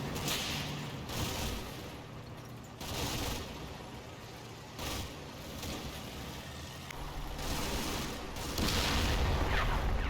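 Tank guns and explosions from a Combat Mission World War II battle in Italy or Tunisia, with Sherman and Panzer IV tanks. Broad booming bursts recur every couple of seconds over a steady rumble, fairly faint and distant, with no talking.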